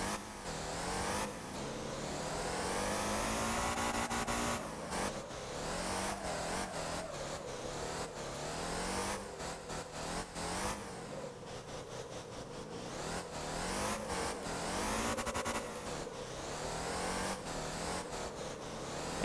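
A car in the driving game Motor Town laps a track while drifting, its engine revving up and down in repeated loud sweeps with brief gear-shift dips, no voices.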